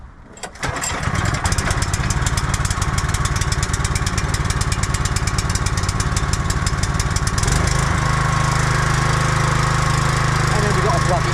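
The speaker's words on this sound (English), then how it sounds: "we have a petrol generator, and all we're going to do, we're going to start the generator up" Petrol generator pulled into life with a short burst, then running loud and steady with a fast rhythmic engine chatter that settles into an even drone; a voice speaks briefly over it.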